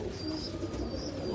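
A grown racing pigeon coos softly, low murmuring calls faint against a quiet background, with a thin high chirp from another bird briefly overhead.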